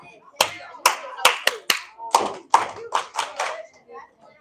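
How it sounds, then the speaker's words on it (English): A run of about a dozen sharp hand claps in an uneven rhythm in a classroom, close and crisp with short gaps between them. "Am I not clapping loud enough?"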